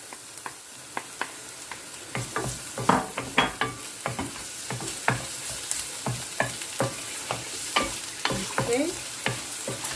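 Garlic frying in a pan for a chicken stir fry: a steady sizzle with repeated spatula scrapes and taps against the pan, louder clattering strokes in the middle, close by, with a brief word spoken.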